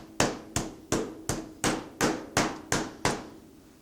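A heavy mallet pounds chicken legs flattened under plastic wrap, giving nine evenly spaced, sharp thuds, each decaying quickly, close and loud with no talking.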